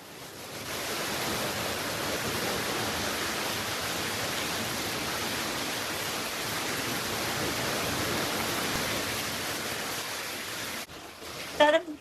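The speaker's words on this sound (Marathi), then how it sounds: "बाहेर पाऊस काय थांबतच नाही" Heavy rain falls outside a farmhouse, a broad steady roar of water that holds evenly for most of the stretch before dropping away near the end into a few brief knocks.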